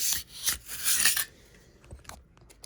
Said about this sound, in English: I'm just gonna go with the buck knife and just clear off that excess real quick